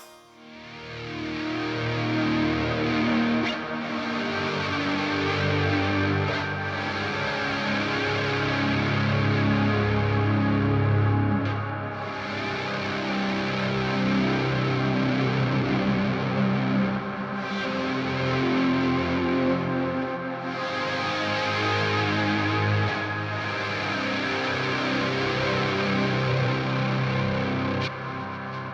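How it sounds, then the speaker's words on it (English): A dense guitar pad heavily distorted through a Bogner amp simulation drones continuously, thick and washy with slow swells, loud and sustained without any voices. "Listen this distorted pad."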